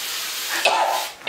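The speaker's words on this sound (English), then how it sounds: "I want you to spray her hair again." Aerosol hairspray sprayed onto hair indoors, a short close hiss lasting under a second followed by a brief second burst.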